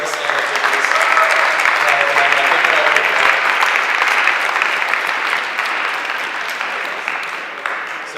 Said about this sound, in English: I'd just like to give a big round of applause to all 6 of the candidates who came out